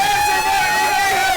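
Studio audience cheering and clapping on a live talk show, a loud, dense wash of crowd noise with whoops running steadily throughout.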